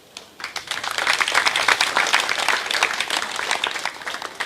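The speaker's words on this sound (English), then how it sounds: "could you please give us a round of applause?" An audience breaks into applause at the TAAMO card launch, the clapping starting suddenly and swelling into a dense, steady patter of many hands that continues throughout.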